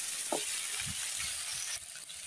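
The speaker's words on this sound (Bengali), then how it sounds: "এখন আলুগুলো ভালো করে ভেজে নেব," Potatoes frying in hot oil in a pan, a steady broadband sizzle with a few soft stirring knocks, continuous and close, with a slight drop in intensity near the end.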